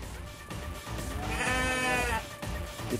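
A goat bleats along a path beside a river estuary, one drawn-out, wavering cry near the middle, fairly close and clear over outdoor background noise.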